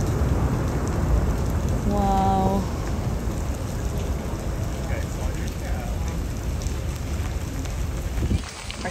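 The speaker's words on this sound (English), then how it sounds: "Still hanging out in the rain" Steady rain pours down outdoors at Icy Strait Point in Alaska, a dense continuous hiss of drops on surfaces close by, with a voice briefly audible partway through.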